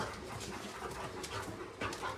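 A young, high-drive dog at a kennel pants rapidly and steadily up close, quick rhythmic breaths throughout with no talk.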